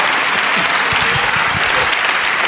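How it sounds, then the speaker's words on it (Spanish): Loud, dense applause from a church congregation during a Spanish-language sermon, steady and continuous throughout with a few voices mixed in. "Dale un aplauso fuerte a Dios."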